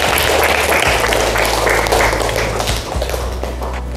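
Applause from a class of students rings out loudly and steadily, a dense patter of clapping over a low background hum.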